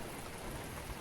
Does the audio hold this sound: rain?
yes